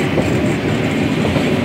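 Nilgiri toy train running on mountain tracks near Coonoor, a loud, steady rolling rumble with rapid rattling wheel noise, heard from on board and without talk.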